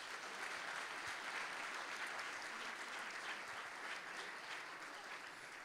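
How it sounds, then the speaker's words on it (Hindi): Sustained audience applause at a church Sunday School Christmas celebration, an even, dense wash of clapping from a crowd, heard from some distance and holding steady throughout before easing slightly at the end. "थोड़ी तालियां नहीं, ज़्यादा तालियों के मुस्तहिक हैं"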